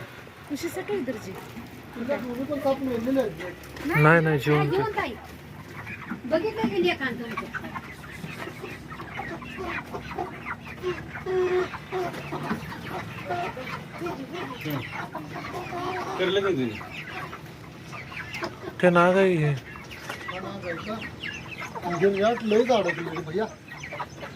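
People talk over a background of chickens clucking, the birds' calls rising and fading throughout.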